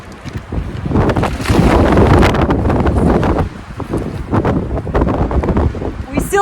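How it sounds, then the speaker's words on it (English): Strong wind gusts buffet a makeshift tarp at an outdoor car camp, producing a loud, continuous roar and flapping rumble that swells and dips throughout. "Here comes the wind."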